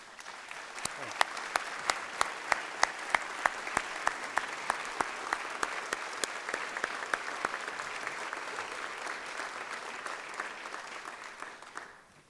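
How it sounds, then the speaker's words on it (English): An audience at a governor's State of the State address applauds, a sustained, steady wash of many hands clapping, with a few sharper claps standing out, before fading at the end. "Judy Batiste, would you please stand and get a round of applause?"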